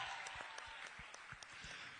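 Audience applause at a panel discussion at the Island Music Conference, a steady wash of many hands clapping at moderate level for about two seconds, with no voices over it.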